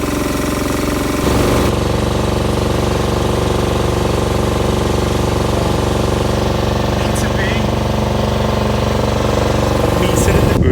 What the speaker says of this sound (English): We were flying with the auger then